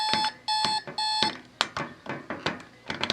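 Spartus Model 1208 alarm clock sounding three thin electronic beeps from its small speaker, close and fairly quiet, followed by soft clicks and handling knocks.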